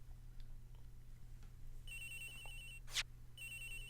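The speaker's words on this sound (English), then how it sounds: "It's ringing from somewhere, sir!" A phone rings in the Ace Attorney Investigations: Miles Edgeworth video game: two bursts of bright electronic ringing separated by a short, louder chime-like hit, over a steady low hum with no talking.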